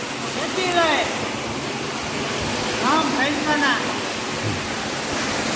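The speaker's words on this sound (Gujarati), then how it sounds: "નહેરમાંથી સીધું ભરાય છે પાણી" Canal water pours straight into a farm field in a continuous rushing, splashing flow, with people talking over it at a moderate distance in the open.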